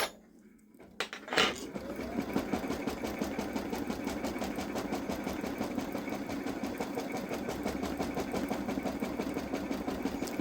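A Babylock Solaris embroidery machine stitches an appliqué bow on a sweatshirt, its needle hammering in a fast, steady mechanical rhythm at close range after a brief quiet start, running on without pause and with no talk.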